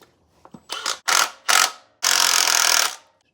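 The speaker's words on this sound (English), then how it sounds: "Loosen these guys up with the impact," An impact wrench loosens 14mm timing belt tensioner bolts on a Miata in a few short loud rattling bursts, then one longer sustained hammering burst, close up with no talk.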